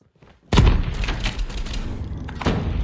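Sudden loud booming blasts of grenade explosions in Call of Duty Mobile battle royale, one heavy impact followed by rumbling and another burst.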